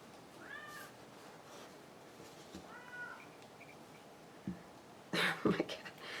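A pet cat jabbers at the family's kids indoors, giving two clear, moderately loud meows in the first half, followed by a few brief rustling bursts near the end.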